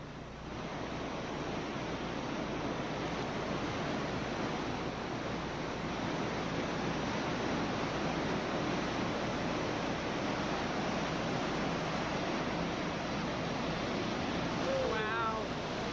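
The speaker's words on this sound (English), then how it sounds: "here's a little video of me running through the biggest waves of my life." Roaring whitewater of Hermit Rapid in the Grand Canyon, heard while paddling through huge waves: a steady, dense rush of churning water fills the whole clip at close range, with no voices.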